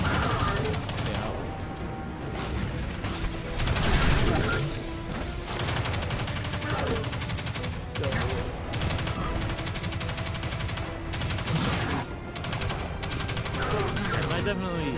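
Gunfire from shooting enemies in the video game Destiny 2: rapid bursts of shots keep cracking over busy game sound and music, with a voice talking through much of it.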